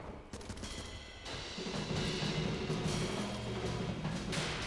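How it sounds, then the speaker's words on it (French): Gunfire in the video game Ape Out, with a guard shooting into a wall: a dense, steady barrage of loud, crackling shots layered over a low humming tone, with no talking. "Il a tiré contre le mur."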